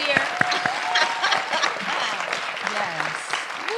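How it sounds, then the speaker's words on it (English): A theatre audience claps for the cast in a warm, moderately loud round, with cheers and a voice talking over the clapping. "can we applaud for them anyway?"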